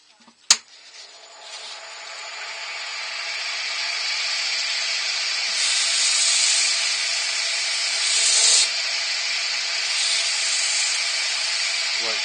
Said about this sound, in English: I can get the Danish oil on it